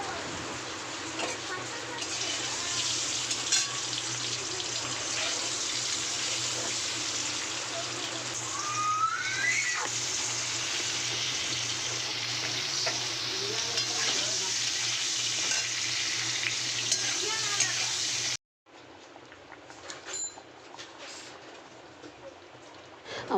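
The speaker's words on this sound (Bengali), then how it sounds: "লঙ্কা ফোড়ন দিয়ে লাল পুঙ্কো শাক ভাজছি" Red pui greens frying in oil with a dried chili tempering and garlic: a loud, continuous hiss of sizzling punctuated by stirring scrapes, while someone talks over it. The sizzle cuts off briefly before resuming more softly.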